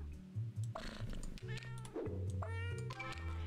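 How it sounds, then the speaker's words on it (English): Cartoonish cats meow again and again in the puzzle video game Cats Organised Neatly, several short rising calls over a looping, bouncy background tune. "Are the meows annoying you yet?"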